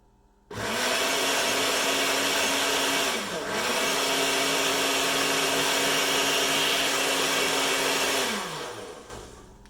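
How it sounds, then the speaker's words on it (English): A blender whirring through spinach and liquid for green pancake batter, one long steady motor roar with a brief dip midway, then winding down at the end, close and loud. "we're just going to pulse this up until, the spinach is liquid"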